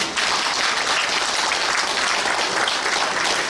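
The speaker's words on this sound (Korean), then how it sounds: "박수 한번 쳐봐요." Audience at a Korean Christian council's New Year gathering applauds in a thick, even wash of clapping that holds at full strength for the whole stretch, with no talking.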